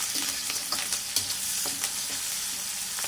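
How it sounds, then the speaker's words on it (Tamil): Vegetables sautéing with curry leaves in a pan, a dense continuous sizzle with light periodic stirring taps, close and unaccompanied by talk. "நல்லா வதக்குங்க போட்டு."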